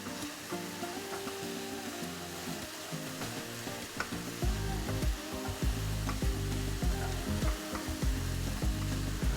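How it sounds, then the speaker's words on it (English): Potatoes and onions fry in a pan for shepherd's pie, a dense, continuous sizzle that grows louder midway, with irregular clatter and scraping from stirring, close by and without talk. "Fry them again for about another 3-4 minutes, along with the onions."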